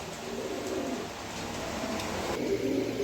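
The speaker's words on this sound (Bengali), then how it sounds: "এক পেয়ার লাহোরি কবুতর আছে আমার কাছে, রেড কালারের ভিতরে" A pair of red Lahori pigeons coo softly in repeated low, throaty calls, close by against a faint hissing background.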